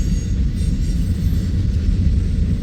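A freight train with a cryotrans car rolls past close by, a loud, steady low rumble of wheels and cars with no break across the whole stretch.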